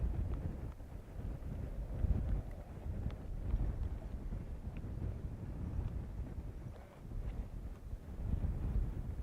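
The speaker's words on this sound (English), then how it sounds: "It's quite a windy day." Steady wind rumbles and buffets outdoors on Florida's Space Coast at a SpaceX launch site, low and continuous throughout, with no voices.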